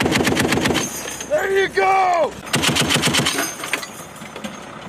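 U.S. Marines fire a machine gun from a convoy in loud, rapid bursts, with shouted voices breaking in between the volleys.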